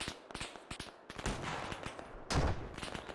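Rapid gunshots in the video game Arma 3, a series of sharp, distinct cracks in quick irregular bursts with short gaps, then a sustained rumbling volley and a heavier blast near the end.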